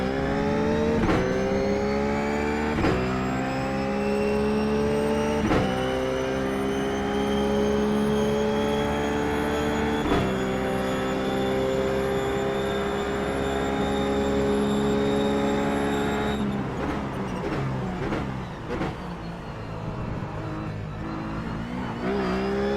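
A Ruf GT3 race car engine howls loud and close around the Monza circuit in iRacing, holding high revs with repeated gear shifts that briefly break the rising pitch.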